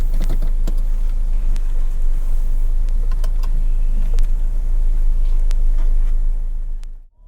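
A car engine idling while warming up: a loud, steady low rumble lasting throughout, with scattered light clicks and ticks over it, cutting off abruptly at the end.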